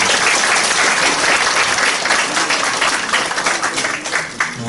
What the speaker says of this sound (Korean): 우리 여러분 친구분들께도 한번 크게 한번 박수 한번 주세요.